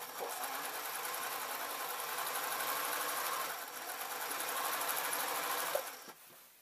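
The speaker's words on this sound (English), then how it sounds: "Check I'm actually still sewing." A sewing machine stitching continuously up close with a steady, fast mechanical whir that dips briefly midway and stops near the end.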